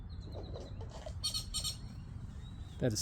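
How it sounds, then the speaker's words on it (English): Faint, distant bird chirps and twittering over low background noise, with a brief brighter call near the end. "I think you heard maybe a bird talk."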